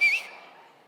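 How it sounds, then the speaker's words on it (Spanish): A person gives one short, sharp whistle, loud and close, that cuts off quickly and leaves a fading room echo with no talking. "si sé silbar yo"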